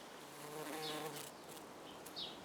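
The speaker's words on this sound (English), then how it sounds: "but it's just buzzing with bees." Bees buzz faintly around a flowering rhododendron in a sunny garden, a soft continuous drone with a few insects passing close to the microphone.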